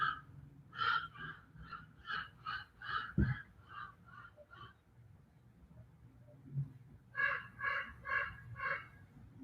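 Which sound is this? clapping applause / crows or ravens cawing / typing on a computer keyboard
crows or ravens cawing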